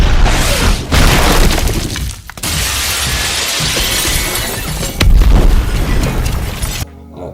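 Glass shattering during a fight scene in a Marvel superhero film, loud repeated breaking crashes and bursts with scattering debris, one long sustained smash in the middle, then a sudden cutoff near the end.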